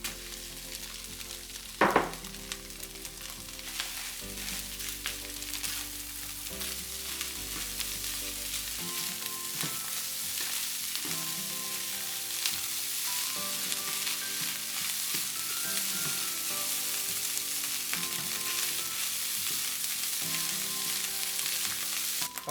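Fried rice with egg and beef sausage sizzling steadily in a hot pan, with repeated scraping and stirring strokes over a continuous loud frying hiss, close up and with no talking.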